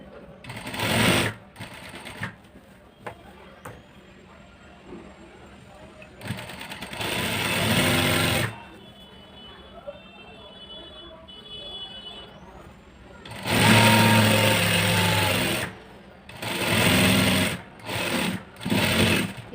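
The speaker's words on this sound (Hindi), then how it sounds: "ये देखिए आसन से आसन को जोड़ते हुए हम यहाँ पे सिलाई लगाएंगे।" An electric sewing machine stitches the seams of a palazzo in bursts of fast, steady whirring, close and loud, separated by quieter pauses with a faint hum.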